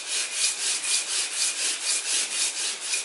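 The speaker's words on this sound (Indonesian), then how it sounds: "ini digosokkan ke amplas di atas kaca karena biar si permukaannya rata" A motorcycle part from a Vario scooter scraped back and forth on sandpaper laid over glass, a steady rhythmic rasping with about eleven even strokes, close and alone.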